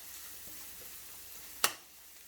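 Vegetables for fried rice stir-fry in a pan with a faint, steady sizzle, broken once near the end by a sharp metallic clack of a spatula or utensil.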